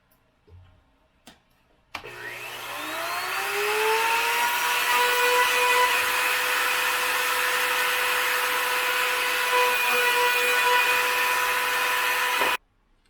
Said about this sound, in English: Now with a little finish router and a little bitty round over